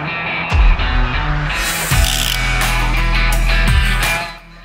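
Steady low hum of a cooled thermal camera system used for leak detection, filling the background with a constant drone, broken by a few louder broadband bursts and thumps.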